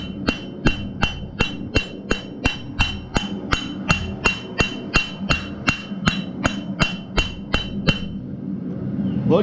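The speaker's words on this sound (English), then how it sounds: "with the peen of our hammer, we're going to start drawing out what's going to be your bottom fin" A hammer peen strikes horseshoe steel in a steady rhythm, about two ringing metallic blows per second, close and loud, with no talking.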